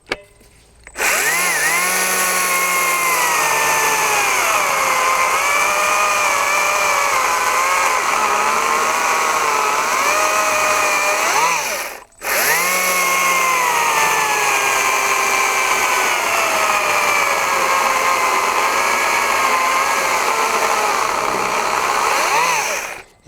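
A Stihl MSA 120 C 36-volt battery chainsaw runs in two long continuous bursts, a loud, close electric whine that dips and rises in pitch as the chain bogs under load, with a brief stop in between.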